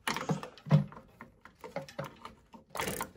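A ratcheting screwdriver driving screws to secure a switch plate on an electrical box, rapid uneven clicking and ratchet chatter in short bursts, close up, with light handling noise and no speech.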